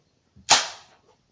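A single Glock pistol shot cracks out at a sport shooting range, sharp and loud, with a short decaying tail and quiet before and after.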